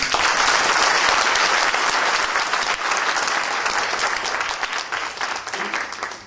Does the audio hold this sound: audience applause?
yes